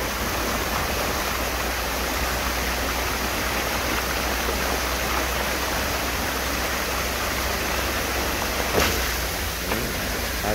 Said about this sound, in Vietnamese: Mưa càng ngày càng lớn rồi.